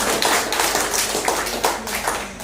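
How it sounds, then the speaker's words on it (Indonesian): A school audience at an Indonesian elementary school event claps together in a loud, close burst of applause that stays dense and even throughout. "Mungkin kita berikan aplaus sekali lagi SDN Bonsari"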